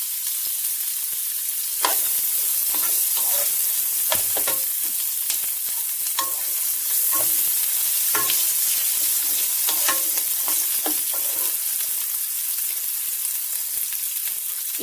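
Onions and mutton fry in plenty of oil for haleem, a loud steady sizzle broken by repeated clinks and scrapes of a spoon stirring the pan.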